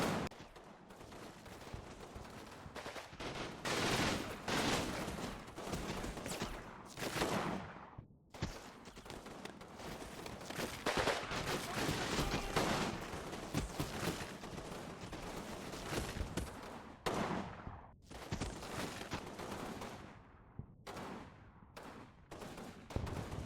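Video game battle gunfire as a squad opens fire from behind a hedge: continuous crackling volleys and rapid bursts, quite faint and distant in the mix, with brief lulls.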